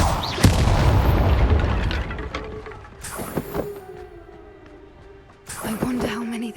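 Fiery blasting-spell explosions in the Hogwarts Legacy video game: a loud booming burst opens, followed by quieter mid-range blasts and crackling impacts near three and five and a half seconds, with no talking.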